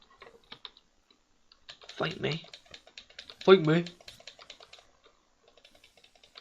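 Soft, rapid mouse clicks tick away steadily during computer gameplay, faint and close, while a person speaks briefly over them.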